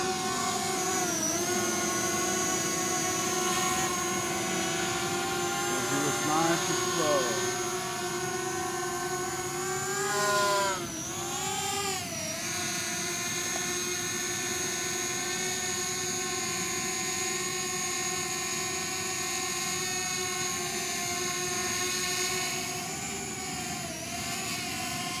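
A quadcopter drone's motors whine continuously at close range, a high layered buzz of spinning propellers that rises and dips in pitch as the throttle changes.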